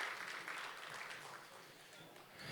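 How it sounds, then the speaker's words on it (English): Faint applause from an audience at a county address honoring a high school ROTC group, a soft, steady patter of clapping heard at a distance throughout the short stretch. "a round of applause to the Vista ROTC"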